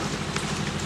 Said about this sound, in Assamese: ইমান বৰষুণ